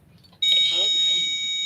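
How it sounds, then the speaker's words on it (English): After a moment of near silence, a shrill, steady electronic temperature alarm tone starts abruptly and keeps sounding, with a person speaking faintly beneath it. "it'll start beeping because it says that our temperature is higher than 60 degrees"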